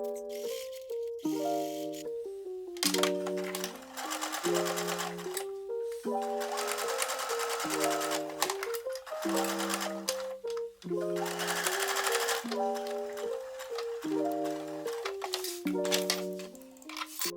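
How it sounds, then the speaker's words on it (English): A sewing machine stitches costume pattern pieces together for a Rapunzel princess dress, running in repeated bursts of whirring stitching with short pauses between seams, over steady background music. "Now sew to attach all the pieces together."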